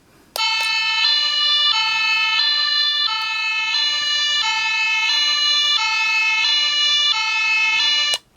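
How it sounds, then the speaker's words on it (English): Electronic European-style two-tone siren from a Playmobil City Life toy ambulance, a steady alternating hi-lo wail repeating evenly for about eight seconds, loud, close and tinny, starting and stopping abruptly with no talking. "that's the European siren."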